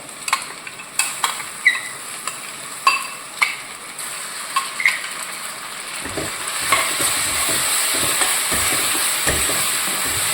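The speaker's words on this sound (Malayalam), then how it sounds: "ആ അരച്ച എല്ലാ ഇൻഗ്രീഡിയൻസും കൂടെ ഞാൻ ഇതിലേക്ക് ചേർക്കുവാണ്" Ground spice paste for a curry goes into a hot frying pan: a few sharp spoon taps and knocks first, then a wet, loud sizzle rises and continues with stirring scrapes, close up and without talk.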